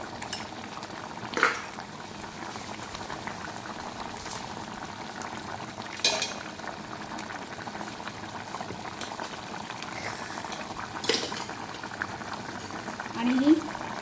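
Low bubbling of a salted curry gravy simmering in a pot on the stove, punctuated by a few clinks of a utensil against metal.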